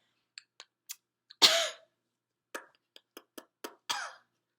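A few quick lip smacks, then a single harsh cough, followed by several more smacking clicks and a second short cough, close and clear in a quiet room during a motor speech examination.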